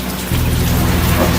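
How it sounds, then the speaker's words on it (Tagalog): Heavy rain pours down nonstop, a loud, dense and continuous hiss that swells slightly after a brief moment, with no voices. "Walang tigil po ay pagbuhos sa malakas na ulan."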